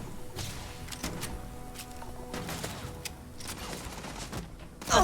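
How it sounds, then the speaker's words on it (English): Gunfire aimed at the player in the Starfield video game, bursts of quick shots and sharp cracks scattered through the stretch, fairly faint and distant-sounding, with a louder hit right at the end. "Where are they shooting me from?"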